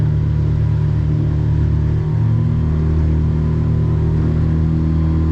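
A 2025 Northriver Seahawk 23 boat motor runs during break-in, throttle easing up in a steady, loud, low engine drone with a faint rise, no voices over it.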